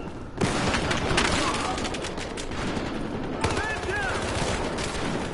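Rapid automatic gunfire in the shooter game Battlefield Hardline rattles almost without pause, dense overlapping bursts from several weapons with a few heavier booms, loud and close throughout.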